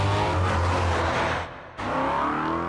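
Rally car engine revving hard while driving at a WRCC event, loud and continuous with a brief dip in the middle before surging back.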